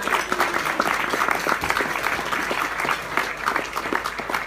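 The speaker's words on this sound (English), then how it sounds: "I'd like everyone to give the two of them a round of applause." A business-event audience applauds steadily for several seconds, a dense patter of many hands filling the room with no speech over it.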